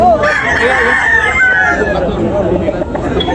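A rooster crows loudly and close by at a chicken market in Tabunok, a long strained call, with other chickens clucking and a busy, noisy background throughout.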